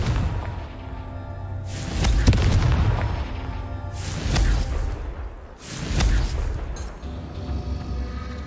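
Confringo spell blasts in Hogwarts Legacy: three heavy booming explosions with whooshing tails arrive about every two seconds, each swelling then fading, under low game ambience.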